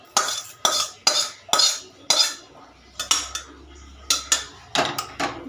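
Spoon clattering against a pot while spiced Gobindobhog rice and lentil khichuri is stirred, about a dozen sharp metallic scrapes and knocks in an uneven rhythm, close and fairly loud with no talking.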